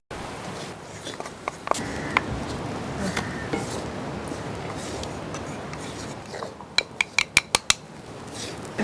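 Cinnamon, cloves and cardamom powder are stirred in a metal pot while cooking kappa biriyani. A spoon clanks and scrapes irregularly up close, ending in a quick burst of sharp clinks.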